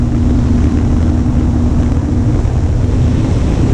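An RC Sopwith Camel model plane engine runs at half throttle, a steady, unbroken buzzing drone with wind rush over the microphone, holding a constant level throughout with no talk.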